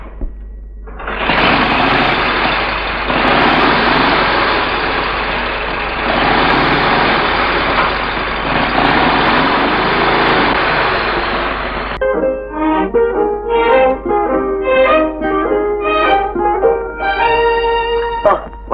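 A vehicle engine struggles to get moving in an old Tamil film scene. A loud, steady, broadband roar runs for about eleven seconds, then gives way to choppier, tonal sputtering.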